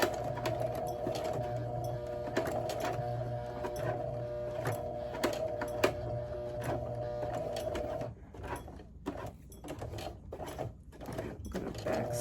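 A hand-cranked sewing machine stitches steadily with a rhythmic mechanical whir and tick for about eight seconds, then slows into uneven clunks and knocks.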